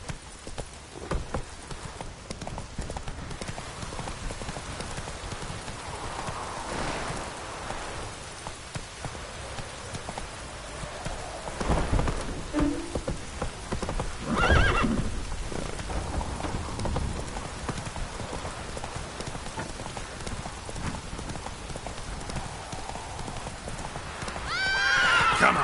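Roach, Geralt's horse in The Witcher video game, gallops with steady hoof clip-clops over a wet, rain-pattered ground, with a neigh or whinny rising near the middle and continuous rain noise throughout.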